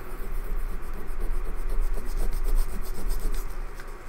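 An IC chip rubbed flat against paper makes a steady, close scraping rasp of quick repeated strokes that runs without a break for about four seconds.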